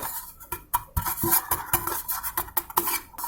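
A greased cake tin dusted with a teaspoon of flour: quick metallic taps, knocks and rattles as the tin is shaken and turned, close and irregular, with no voices.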